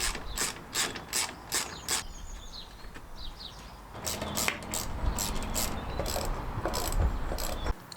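A socket ratchet with large and small extensions loosening deep-set 10mm engine bolts on a Lexus IS300 2JZ, rapid loud clicking bursts in short runs, a pause, then longer continuous ratcheting.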